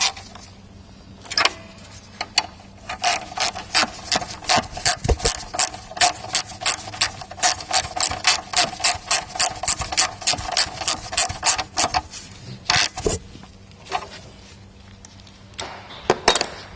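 Ratchet tightening the bolts on the glow plugs of a Peugeot 206 HDi, a long run of rapid, even clicks close up with brief pauses and a few separate clicks toward the end, no talking.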